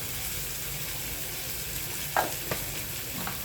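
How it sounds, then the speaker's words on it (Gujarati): Chickpeas going into a hot pan for channa masala, under a steady loud sizzle and frying hiss, with a few short clinks and stirring knocks near the end. "હવે આપણે એમાં ચણા નાખી દઈશું."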